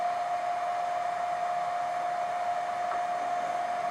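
A cooling fan in a vibration-analysis test setup spins at 100 revolutions per second, giving a steady, continuous whooshing drone with a fixed humming tone and no breaks or speech.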